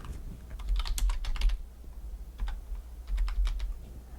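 Quick bursts of keystrokes clatter on a computer keyboard, close and fairly soft, in two clusters separated by a short pause.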